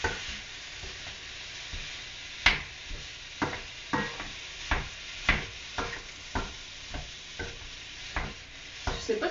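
Meat sizzles in a pan while a utensil stirs and scrapes it, giving a steady frying hiss broken by regular clacks and scrapes roughly every half second, close and clear.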